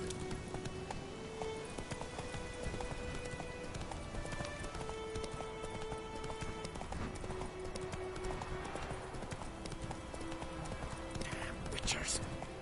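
Horse hooves clip-clop steadily along in The Witcher 3, a continuous rhythmic trotting under game music and ambient noise, with a voice speaking over it.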